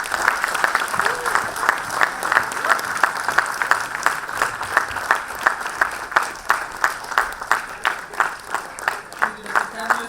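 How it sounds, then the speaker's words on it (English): At an International Customs Day event, an audience applauds steadily and fairly near, the claps settling into a rhythmic beat that runs for about ten seconds. "give a big round of applause"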